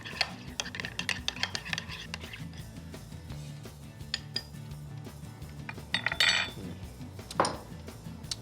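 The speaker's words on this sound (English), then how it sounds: "So we're just gonna stir this up." A spoon stirs orange zest, vanilla extract and vanilla bean in a bowl, giving quiet irregular clinks and taps with a few louder scrapes, close and faint, no talk.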